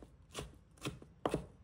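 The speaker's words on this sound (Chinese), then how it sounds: "然后将萝卜丝切一下碎，不用切得太碎，随意切几刀即可。" A kitchen knife chops shredded radish on a cutting board in three distinct, loose strokes, each a crisp, close thud, with quiet pauses between and no talk.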